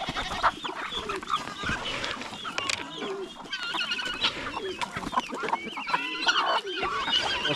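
Chickens cluck and chatter on a farm in the Philippines where young chicks are raised, a busy overlapping flock calling steadily throughout at close range with no talk.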